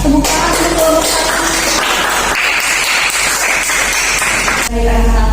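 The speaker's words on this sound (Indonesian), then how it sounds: "Tepuk tangan untuk kelompok satu." A school class clapping for a student group during a science lesson, dense continuous applause filling the room, close and loud, ending abruptly near the end.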